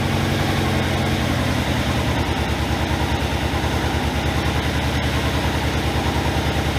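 A Yamaha RSV motorcycle engine idles on choke with a loud, close, steady rhythmic chugging throb and a fast even pulse, with no one speaking.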